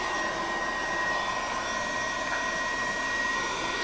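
A KKSEVENS 1300W magnetic induction heater runs with a steady, loud whirring hum and high whine that stays constant for a few seconds, with no talk.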